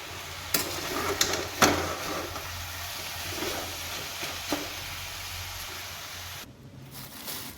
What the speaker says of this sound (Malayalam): ഉപ്പേരി അടുപ്പത്ത് വെച്ചത് ഒന്ന് ഇളക്കി കൊടുക്കും